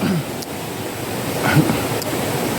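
A stream flows at a resort campground with a steady, broad rush of water and some wind buffeting the microphone, and no one talks over it.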